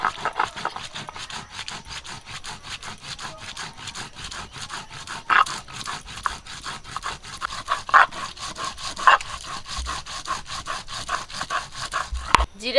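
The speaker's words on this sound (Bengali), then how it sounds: "এবারে বেটে নেব গোটা জিরা" Whole cumin seeds being ground on a grinding stone while making chicken curry produce a steady, rhythmic back-and-forth rubbing and scraping, close and moderately loud, with occasional sharper clicks of stone on stone.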